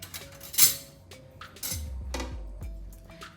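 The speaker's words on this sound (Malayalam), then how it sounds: "ഒരു മിക്സിയുടെ ജാർ ഇങ്ങോട്ട് എടുക്കാം." A mixer grinder jar is picked up and set down in a kitchen, giving a few sharp clinks and knocks of hard jar against counter, with a dull thud and low rumble as it is placed, close by and without talk.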